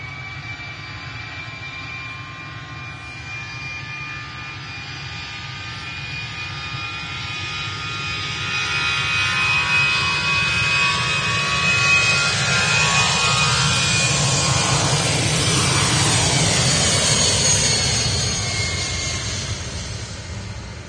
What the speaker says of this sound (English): At Stockport, EasyJet A321 from Milan.